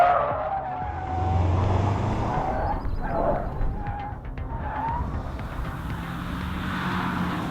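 A test car driven hard on a ride and handling circuit, its tyres squealing and skidding through corners as the engine hums steadily, moderately close, with no talking.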